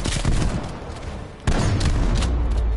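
An AK rifle fires in a video game, loud dense bursts of gunshots close up in rapid clusters, with a heavier volley breaking out midway over constant battle noise.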